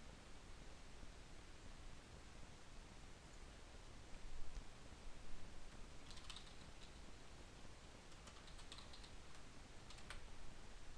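Computer keyboard typing, faint and close, with a few scattered keystrokes and then quick clustered taps over a steady hiss of background noise.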